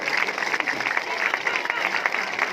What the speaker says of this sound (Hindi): यीशु मसीह के लिए तालियां की भेंट अर्पण कीजिए